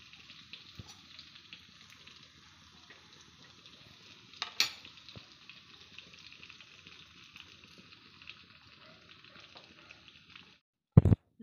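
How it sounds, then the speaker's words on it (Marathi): Garlic fries in hot oil in a small kadhai for a dal tadka, giving a faint, steady sizzling hiss that runs for several seconds, with a brief clatter midway and a sharp knock at the very end. "तेलात आता मी लसूण टाकते।"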